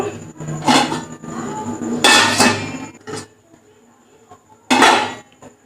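A lid going onto a pot of boiling chow mein, with three loud metallic clatters and scrapes in quick succession, spaced a second or two apart, then quiet.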